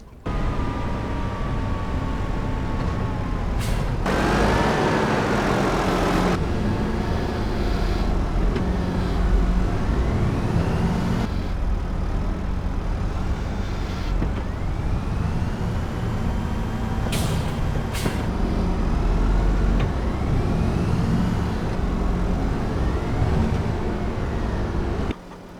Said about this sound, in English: So that's the lorry gone.